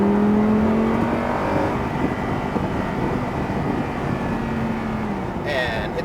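A Lamborghini Huracan accelerating on a track, its engine droning with a rising and falling tone, then a higher-pitched whine near the end, loud and close.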